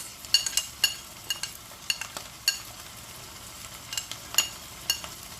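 Whole spices sizzle in a pan: two bay leaves, nigella seeds and coriander seeds. A soft steady frying hiss carries on throughout, broken by a string of sharp crackles and pops that come irregularly, close and clear, with no voices.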